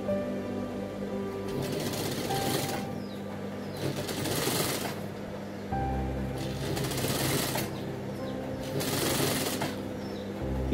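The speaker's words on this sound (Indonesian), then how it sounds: "Kita jahit satu kali dulu seperti ini." A sewing machine runs in several bursts while stitching a single-folded hem along the curved bottom edge of a women's garment, producing close, rapid mechanical chatter that starts and stops four times, with no talking.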